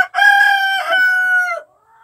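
A chicken gives a loud, close, drawn-out crow-like squawk with a sharp clucking start, sounding alone in a quiet coop before fading out.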